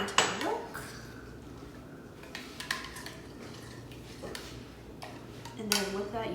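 Wasabi mixture being stirred into milk in a bowl, giving soft scattered clinks and scraping of a utensil against the dish, fairly quiet and close, with a brief louder clatter near the end.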